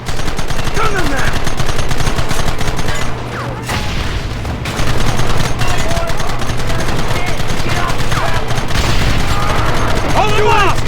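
Dense, continuous gunfire from a Western shootout in the Red Dead Redemption video game, with overlapping shots and booms rolling steadily under a constant background rumble, shouted voices mixed in.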